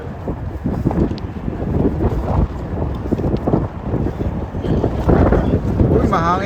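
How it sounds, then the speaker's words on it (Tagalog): Steady wind rumbles loudly against the microphone throughout, with people talking faintly underneath, outdoors in Japan. "Uy, mahangin na naman."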